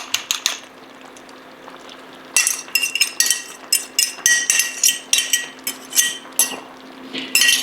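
Beaten egg being stirred into pancit lomi in a pot, with a utensil knocking against the metal in quick, repeated close clinks and scrapes after a brief early burst, no voices.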